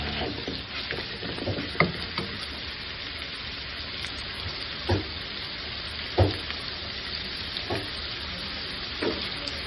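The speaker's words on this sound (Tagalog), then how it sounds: "Tuloy-tuloy lang po yung paghalo o ang pagluto ng ating karne." Meat for spaghetti fries in a pan with a steady soft sizzle while a utensil stirs it, giving occasional sharp scrapes and knocks against the pan.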